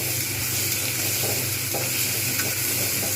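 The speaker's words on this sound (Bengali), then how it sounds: "যাতে এগুলো ভালোভাবে ভাজা হয় তার জন্য আমি শুধু একটু অপেক্ষা করছিলাম" Onions, tomatoes and green chillies frying over high heat in a pan, a steady close sizzle with light bubbling and spatter, continuous and without speech.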